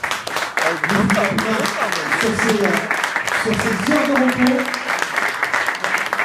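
Applause at an association's inauguration speech, honouring a friend who helped, a dense clatter of clapping running throughout with a voice talking over part of it.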